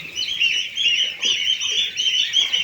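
Geese destined for a market honk in a steady, close chorus, overlapping calls repeating in bursts throughout.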